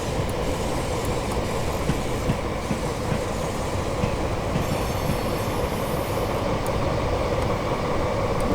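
A train in Train Simulator Classic on the Cardiff to Cheltenham Spa route rumbles along steadily with constant wheel noise and faint rail clatter, loud and continuous with no talking.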